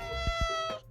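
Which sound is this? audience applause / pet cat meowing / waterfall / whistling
pet cat meowing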